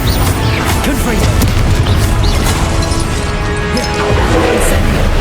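Confringo spell blasts in Hogwarts Legacy burst in a dense, loud barrage of booms and crashes, continuous chaotic impacts and crackles layered with battle noise throughout.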